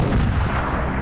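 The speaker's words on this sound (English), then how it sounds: "I love the sound of explosions." A loud, dense explosive roar that fills the whole moment continuously, with no gaps or quiet between blasts.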